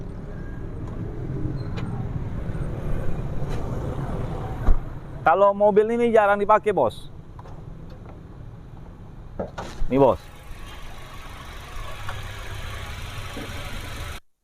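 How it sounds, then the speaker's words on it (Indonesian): A used Toyota Avanza Veloz engine idles steadily and smoothly with a low, even hum throughout, while someone talks over it in short bursts. "Suara mesinnya masih halus bos."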